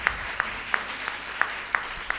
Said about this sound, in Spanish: pido uma salva de palmas por toda esta oportunidade